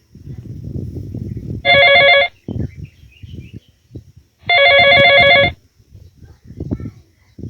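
Two bursts of a bright electronic telephone ring, each lasting under a second, separated by a pause, with muffled voices talking between them.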